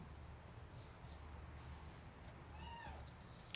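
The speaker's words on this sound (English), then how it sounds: "Oh, look! The cat is here saying hello." A cat meows once, faint and brief, near the end against a steady low background hum in an indoor room during a tarot card reading.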